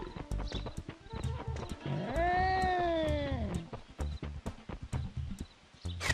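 The Wampus Cat creature in The Secret Saturdays video game lets out one long, drawn-out wailing yowl near the middle, over a steady run of rhythmic thudding footfalls and game effects, with no talking.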